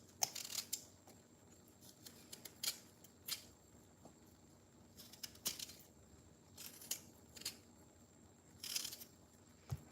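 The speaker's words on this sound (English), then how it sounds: "we'll peel the potato." A potato is peeled by hand for stew, giving scattered short, crisp scraping strokes in irregular clusters over a quiet background, fairly close, with no talking.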